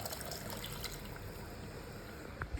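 Water pours into a cooking pot of rice for tomato bath, a faint steady trickling and splashing that runs throughout, with a small knock near the end.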